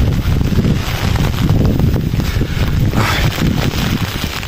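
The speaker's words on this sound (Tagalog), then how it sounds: "Grabe hangin." Strong southwest monsoon wind buffeting outdoors near a garden, loud gusty roaring and microphone buffeting that surges and eases continuously.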